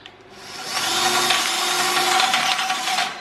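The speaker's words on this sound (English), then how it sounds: "So we're just going to ream the hole a little bit to accommodate the bolt." A large, unused drill bit reams out a tight bolt hole in the aluminum bumper bracket of a Jeep Gladiator Mojave, giving a loud, close, continuous grinding whine that ramps up and holds for a few seconds.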